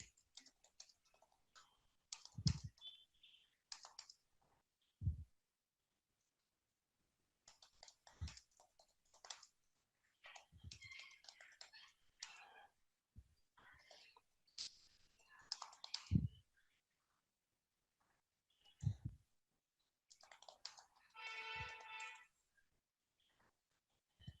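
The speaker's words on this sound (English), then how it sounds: "I'm typing something." Computer keyboard typing heard in scattered bursts of soft clicks with pauses between, faint and close, while a person talks at intervals.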